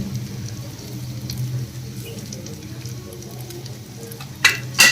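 Ivy gourd (dondakaya) pieces with coriander powder, cumin powder and chili fry in a pan, giving a steady close sizzle throughout, with a few louder scraping stirs near the end.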